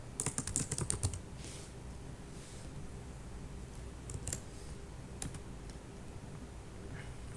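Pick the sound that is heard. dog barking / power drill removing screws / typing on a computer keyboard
typing on a computer keyboard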